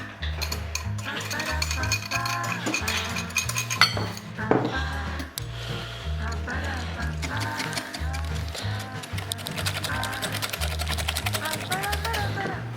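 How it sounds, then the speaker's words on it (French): An egg being whisked with icing sugar in a mixing bowl, quick metallic clinking and scraping in a busy rhythm, close up, with music and a voice talking over it. "on va mettre l'œuf dans un saladier et on va le fouetter généreusement, hop, avec le sucre glace"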